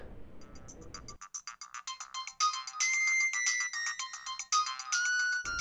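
An incoming call sets a mobile phone ringtone going, a loud, close, repeating electronic melody that plays for several seconds after a moment of murmur.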